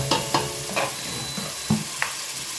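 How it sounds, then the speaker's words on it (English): Red onions frying and browning in a pot during a batch-cooking oxtail meal prep, with a steady low sizzle broken by several sharp clinks and scrapes of stirring at uneven intervals. "then add in the red onions. Let them brown a little bit with the onions"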